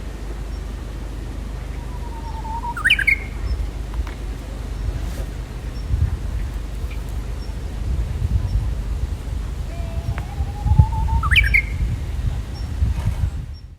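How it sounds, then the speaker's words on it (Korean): Two rising bird calls ring out about eight seconds apart beside a house in Goseong where a wildfire started, set against a steady low wind rumble. "새소리가 울려 퍼졌고"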